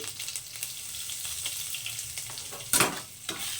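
Asafoetida and green chilli frying in hot oil, a soft continuous sizzle at close range with a brief louder burst of spatter and stirring near the end.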